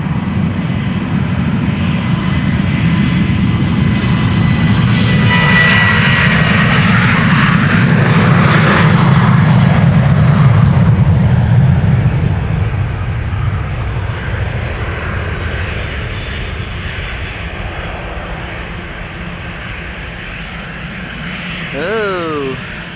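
A KLM Boeing 737-800 bound for Athens takes off at Amsterdam Schiphol, its jet engines building to a loud, sustained roar that slowly fades as it climbs away, with a voice talking over it.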